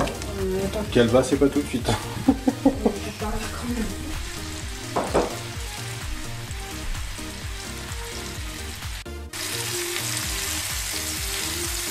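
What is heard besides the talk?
apples frying in melted Normandy butter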